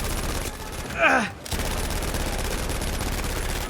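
British machine gun fire in Battlefield V, a dense, continuous rattle of rapid shots running close and loud through most of the stretch, broken by a short gap with a voiced groan or sigh.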